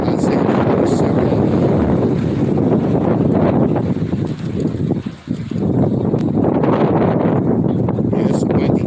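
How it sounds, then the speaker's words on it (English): Gusty wind buffets an outdoor microphone on a warm, windy day, a loud continuous rumble that dips briefly midway, with people talking underneath. "Yeah, it's a windy day."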